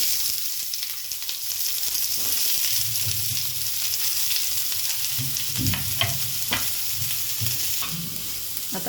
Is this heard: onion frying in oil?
yes